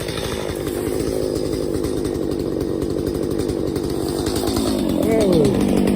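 A loud, close chainsaw runs steadily while cutting wood, its engine drone continuous and rising slightly near the end with a brief pitch sweep.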